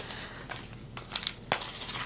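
Transfer tape for vinyl crafting is handled and crinkled close up. Irregular crisp crackles and rustles come in short bursts over a faint background hum.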